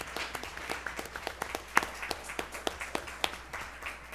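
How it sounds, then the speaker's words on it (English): Sparse, distinct claps from a small audience applauding students, an uneven patter of individual hands at moderate distance that keeps going for about four seconds. "Can we give them one more round of applause?"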